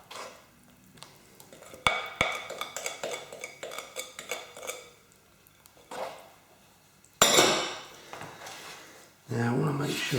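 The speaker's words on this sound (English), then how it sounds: "Get all that flour mixed in with the wet ingredients." A spoon mixes carrot cake batter in a bowl, flour being worked into the wet ingredients, with close scraping and clinks against the bowl in uneven bursts. A voice comes in briefly near the end.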